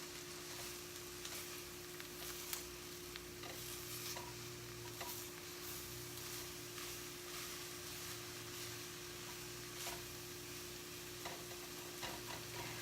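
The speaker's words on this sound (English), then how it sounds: "I'm just going to stir this around so it all is so flavorful" Taco meat being stirred around in a skillet, a steady soft sizzle with intermittent scraping and clicking from the utensil, continuous and fairly quiet with no talking.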